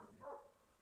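Dogs bark far off down a valley, a short, faint burst of barking standing alone in a quiet rural night.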